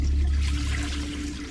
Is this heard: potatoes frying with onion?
no